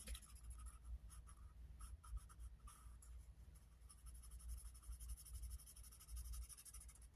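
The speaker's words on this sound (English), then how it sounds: "I'm going to color in our 4 real quick" A marker or pen scratches steadily across paper while a number is colored in on a savings challenge chart, quiet and close with short repeated strokes.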